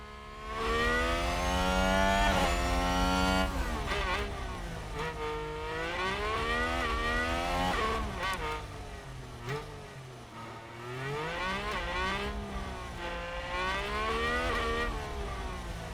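F1 Manager 2022 video game: Formula 1 race cars on the tight streets of Monaco, loud high-pitched engines rising and falling in pitch as cars overtake, a continuous close and layered roar throughout.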